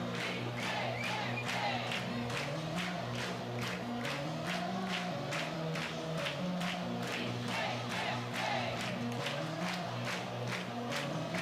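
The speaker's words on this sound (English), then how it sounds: "the crowd recognizes the opportunity for Larissa Pruitt on her senior day." A college softball crowd chants and cheers in rhythmic waves during a senior-day game, with regular accented clapping and voices rising together at a moderate distance.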